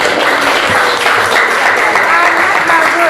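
Classroom applause for a student after a presentation, a dense burst of many hands clapping at once, loud and close, sustained evenly for a few seconds.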